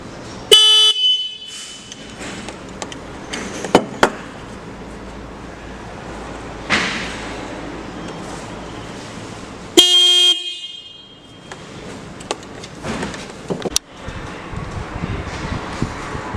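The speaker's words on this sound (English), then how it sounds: "Here we got the Stebel disc horn." Stebel disc horns in low and medium tones blaring in short, loud honks, with bursts near the start, around the middle and again later, separated by quieter stretches of background noise.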